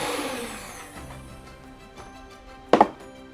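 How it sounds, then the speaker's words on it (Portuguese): Butter and sugar being beaten into a creamy cake batter for a Pernambuco-style wedding cake, a steady whirring mix that fades, then a brief sharp knock near the end. "inicialmente nós colocamos a manteiga e o açúcar e batemos bem até ele ficar uma massa cremosa"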